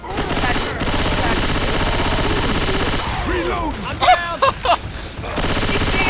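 Sustained automatic gunfire from a co-op Left 4 Dead match with a Tank in play rattles loudly and continuously for about three seconds, then breaks into a few scattered sharp shots before firing resumes.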